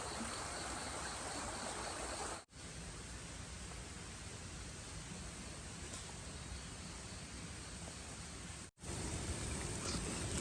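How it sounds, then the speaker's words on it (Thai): Continuous rushing of a stream flowing through a forest, swollen after overnight rain, a steady broadband wash of water with two brief dropouts. "มี สายน้ำไหลผ่าน"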